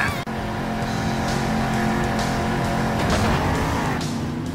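Monster truck in the Monster Jam Steel Titans video game pulling a double backflip and donuts, a loud continuous engine roar with tyre squeal and skidding, rising and falling throughout with no break.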